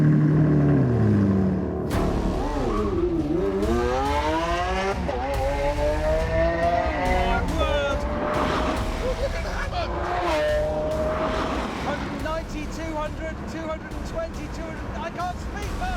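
Race cars accelerate and rev with rising, sweeping engine notes and tire squeal, loud and close throughout, with excited talk layered over the engines.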